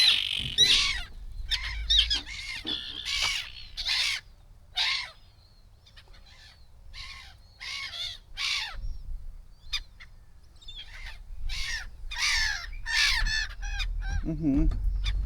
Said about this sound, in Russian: Там что у нас? Чайки.